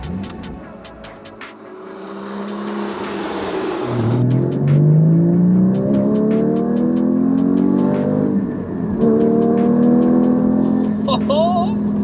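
A Porsche Cayman GT4's 3.8-liter six-cylinder engine, sourced from a Carrera S, revs up loud and close, rising through steady climbing pulls with a brief dip before climbing again.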